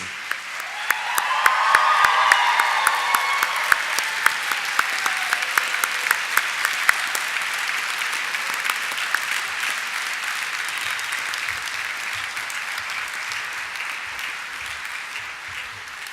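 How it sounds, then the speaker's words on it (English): A graduation ceremony audience at the University of Northampton applauds, a large hall of sustained clapping that swells early, then settles into an even, long-running roar with sharp individual claps standing out. "give a huge round of applause for everyone in the room"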